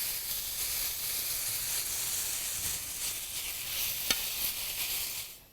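Ground meat sizzles steadily in a hot pan while being turned and mixed, with a constant hiss and one sharp scrape of the utensil partway through.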